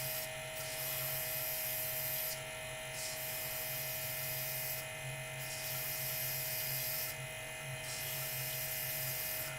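Colour is sprayed onto a woodturning piece in several short hissing bursts, spaced a couple of seconds apart, over a constant loud mechanical hum.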